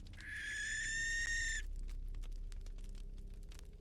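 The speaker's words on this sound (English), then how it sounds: "it sounds like a barn owl that's just sort of screeching in the distance" A barn owl screeches in the distance in a snowy, icy setting, one harsh drawn-out shriek lasting about a second and a half, then fading into a low ambient rumble with faint ticking.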